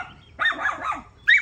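A dog barks outside behind a house: two short, sharp barks, the first a rough double burst and the second brief, moderately close and alone without talk.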